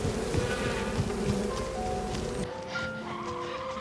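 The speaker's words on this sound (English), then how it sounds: "Look out, it's full of bees." A swarm of bees buzzes in a film scene around a blue minivan, a steady droning hum close by that cuts off abruptly near the end.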